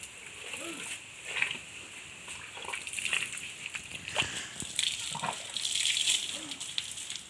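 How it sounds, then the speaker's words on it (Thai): Water gushing from a garden hose as an elephant drinks, with uneven splashing and sloshing bursts close by, while voices talk over it. "ดูอ้วนกินน้ำนะคะ ในสายยาง"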